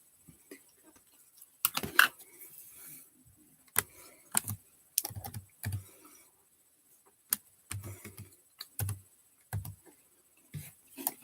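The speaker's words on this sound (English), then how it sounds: "I was going to type that and it wouldn't even let me type." Typing on a computer keyboard, close by in a quiet room, with irregular bursts of clicking keystrokes separated by short pauses.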